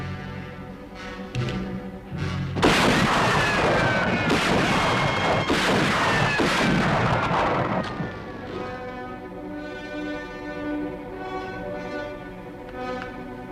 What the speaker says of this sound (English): Now you see that ornament, you shoot it off.